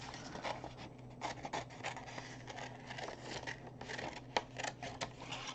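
Scissors snip through paper to cut ruffles for a paper forest tree craft, a steady run of soft, close crisp cuts and rustles with no voices.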